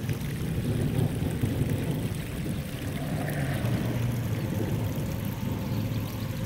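Floodwater runs steadily across a rain-soaked yard, a continuous close rushing wash with a low churning undertone that never lets up, heard alone without talk.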